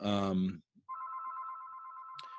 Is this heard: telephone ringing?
yes